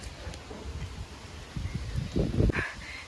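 Gusty wind blowing outdoors, with leaves rustling and a few louder bursts of buffeting toward the end.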